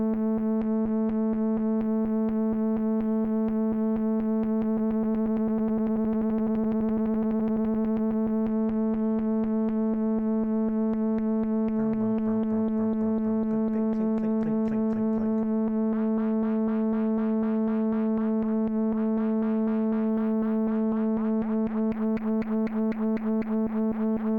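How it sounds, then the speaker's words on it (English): A synthesizer square waveform is fed back into a filter, making a sustained buzzy drone rich in overtones that grows more distorted and warbly in the middle before settling, with no talking. "So we're dealing with the square waveform."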